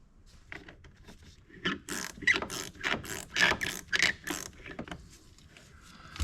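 A ratchet working a bolt loose on a 2008 Mazda CX-7, with close metallic clicking bursts in quick runs and a few scrapes between them.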